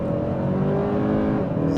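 A 2025 Kia K5 GT accelerating at about half throttle gives a steady, moderately loud engine drone that holds a fairly even pitch for a couple of seconds, with no talk.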